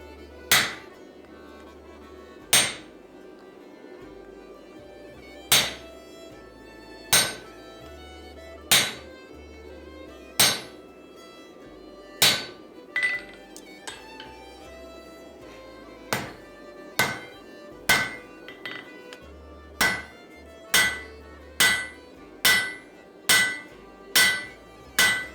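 Hammer forging a set down on a laminated steel axe: about twenty sharp, ringing metal strikes, evenly spaced at first and then coming faster toward the end, heard alone.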